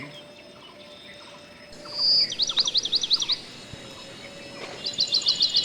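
Birds chirp in a rooftop garden in two quick rhythmic bursts of bright, high tweets over a soft background hum, with a quiet gap between the bursts.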